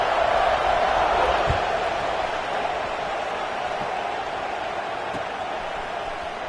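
A football stadium crowd cheers before a kickoff in a college game, a broad, steady roar of many voices that holds throughout, easing slightly over time.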